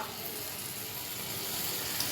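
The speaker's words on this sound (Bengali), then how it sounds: "আলুতে একটু নাড়াচাড়া দিব" Potatoes frying in a pan while being stirred, a steady close sizzle with faint scraping from the stirring and no voices.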